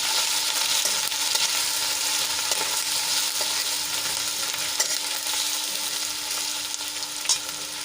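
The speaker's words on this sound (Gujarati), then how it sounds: "તો એમાં આપણે લસણ અને આદુની પેસ્ટ એડ કરીશું અને થોડીક સાંતળી લઈશું." Garlic and ginger paste sautéing in a hot pan, a steady close sizzle and crackle with occasional stirring scrapes throughout, no voices.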